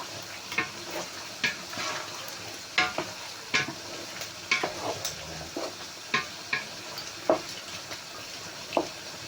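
Pork adobo frying in a pan, with repeated sharp stirring scrapes and clacks at a steady rhythm over a constant close sizzle, no voices.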